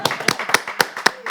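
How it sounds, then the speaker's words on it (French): Sparse handclaps at a casting-results show, a few sharp slaps spaced irregularly rather than a full ovation, with faint background voices. "Applaudissez"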